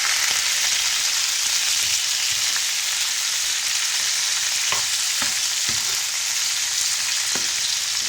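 Chopped tomatoes and peppers fry in a pan for Egyptian shakshuka, giving a loud, steady, close-up sizzle with occasional small pops and stirring scrapes, and no voices.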